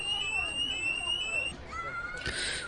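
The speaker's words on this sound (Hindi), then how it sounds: "बाहर जाओ, फायर अलार्म बज रहा है" A school fire alarm rings with a steady, high electronic tone that holds, then shifts pitch near the end, with faint background noise around it.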